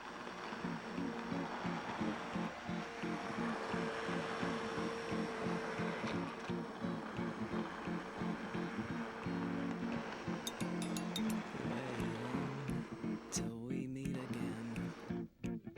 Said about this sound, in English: Just stick a blender right inside the pot.